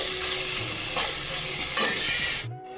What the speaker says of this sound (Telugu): ఇప్పుడు మనము ఈ బ్రెయిన్ని ఇందులో వేసేసుకుందాము.